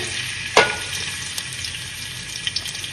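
Onions sautéing in sunflower oil make a steady close sizzle with broadband hiss throughout, one sharp clank or stir near the start and a few small pops later.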